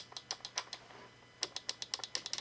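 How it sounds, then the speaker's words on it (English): Micro switch arcade buttons and joystick on a plug-and-play game console, clicked in two quick rapid bursts of crisp, light clicks, close and fairly quiet, with no talking. "they put arcade-type controls in this box. Listen to this."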